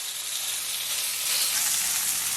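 Skin-on salmon sears in a hot pan after being flipped with a fish spatula, giving off a steady, bright sizzle that holds throughout with no voices.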